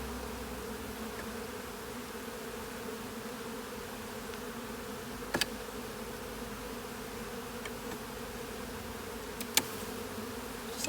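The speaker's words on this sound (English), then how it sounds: "It kind of pops and then all the bees get mad at you" Bees from a double nuc hive box hum in a steady, low, continuous drone close by, with a couple of sharp clicks breaking through the buzzing.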